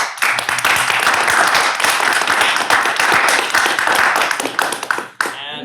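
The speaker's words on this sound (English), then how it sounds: "An applause for Grayson" Audience applause at a campus Christian talk, steady dense clapping from a roomful of people lasting several seconds before tapering off at the end.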